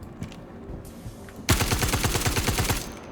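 Automatic gunfire in the video game Star Citizen during a bunker mission, a sudden loud burst of rapid, evenly spaced shots lasting about a second and a half after quieter game ambience.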